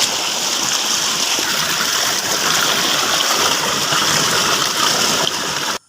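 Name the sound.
irrigation water flowing into a field channel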